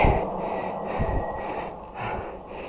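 A rider cycling uphill on a hilly loop pants heavily, with loud, ragged breaths and snorting gasps repeating close to the mic and no speech.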